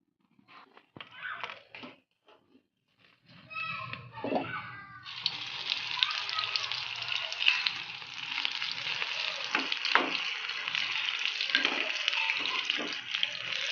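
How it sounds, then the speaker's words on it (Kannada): Cut mirchi bajji chillies fry in hot oil with a steady, close crackling sizzle that builds after some clattering and stirring, continuing unbroken to the end. "ಇನ್ನೊಂದು ಸಲ ಎಣ್ಣೆಯಲ್ಲಿ ಕರಿಯೋಣ"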